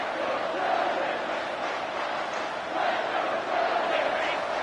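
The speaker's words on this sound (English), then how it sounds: "Decibels rising as the crowd gets behind this defense on 3rd down" A stadium crowd in an NCAA 25 college football video game roars in a steady, swelling wash of noise during a tense third-down defensive stand late in the game.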